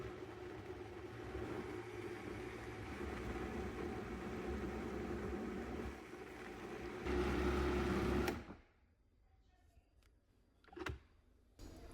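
A blender purees broth ingredients with a cup of water under the lid, running as a loud steady whir for about eight seconds, then cutting out, leaving quiet room tone with a brief bump near the end.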